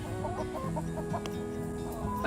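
Free-range farm chickens cluck nearby in short, repeated calls over a low background hum, with a brief louder sound at the very end.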